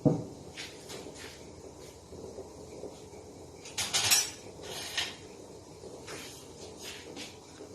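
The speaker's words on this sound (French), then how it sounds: "Et je mélange avec la cuillère en bois." A wooden spoon works flour into bread dough for stuffed flower-shaped rolls in a bowl, with soft scraping and a few louder bursts of knocking and rubbing, close up and with no voices.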